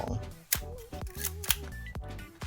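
Shutter being cocked on a Canon QL17 film camera, a run of crisp mechanical clicks and short ratcheting snaps repeated several times at close range.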